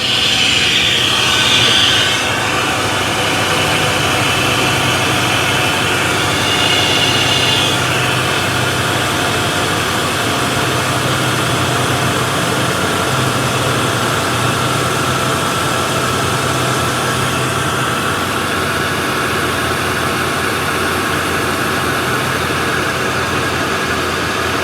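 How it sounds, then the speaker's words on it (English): A car engine idles steadily in a driveway while the A/C compressor runs during a recharge, giving a constant broadband whir and hiss throughout with no voices. "the compressor just kicked on"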